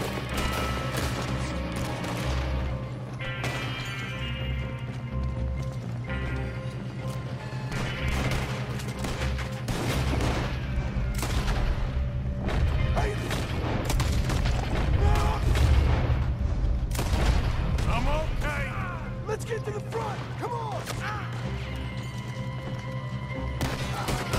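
Gunfire in the video game Red Dead Redemption 2, repeated shotgun blasts and crashes amid a busy game soundtrack with horse sounds, steady and loud throughout.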